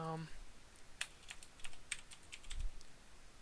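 Quick taps on a computer keyboard, about a dozen light clicks in an uneven rhythm, close and faint, with a short bit of voice at the start.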